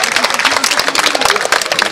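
Short burst of crowd applause and clapping for a youth football player at a club team presentation, dense and steady, with people talking underneath.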